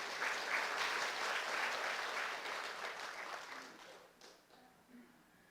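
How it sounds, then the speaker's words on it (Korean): A church congregation breaks into sustained applause, a dense wash of many hands clapping that gradually thins and fades toward the end. "공짜로 듣지 말고 박수라도 한번 하시오."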